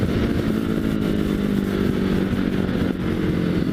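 A 2016 Ducati Hypermotard 939 engine roars close and loud in a steady, unbroken run, its throaty pulsing exhaust popping throughout.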